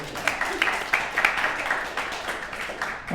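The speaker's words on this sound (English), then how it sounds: "Y'all clap for Logan" An audience at a live comedy night claps and applauds in a scattered, uneven patter of hands that keeps going without fading.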